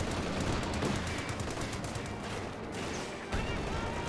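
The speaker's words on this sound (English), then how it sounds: "the MG-34 firing away, suppressing down the riflemen" An MG-34 machine gun in Company of Heroes 2 fires in a steady, dense rattle of rapid shots, layered over constant battlefield din, with a heavier burst near the end.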